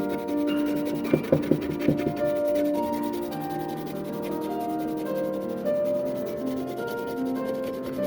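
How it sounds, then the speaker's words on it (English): A small nail scrapes and rubs at old silver chrome on a 1933 Dodge DP hub cap, giving a dry, gritty scratching close by with a few sharper ticks early on, alone without talk. "that little nail, what it's doing is it's scraping the silver, but it's not harming the silver chrome"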